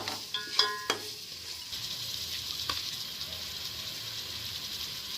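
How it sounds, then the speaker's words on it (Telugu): Whole spices lightly frying in a pan for chicken biryani, a steady soft sizzle with a few sharp clinks of a spoon against the pan near the start, then an even hiss. "ఈ మసాలాల ముక్కలు కొంచెం లైట్గా ఫ్రై చేసుకోవాలండి మసాలాలు మాడిపోకుండా చూసుకొని ఫ్రై చేసుకోవాలి"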